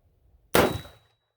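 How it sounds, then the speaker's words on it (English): One sharp, loud shot from an AR-15 pistol rings out alone and decays over a fraction of a second, with near silence before it. "First shots"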